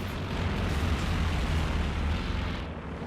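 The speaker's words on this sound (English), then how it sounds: "And we got airstrikes" Bombing-run explosions in a Company of Heroes 2 multiplayer match, a dense, sustained rumbling roar of blasts heard loud and continuous for the whole stretch with no speech.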